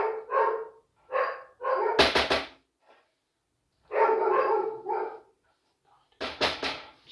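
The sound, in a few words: dogs barking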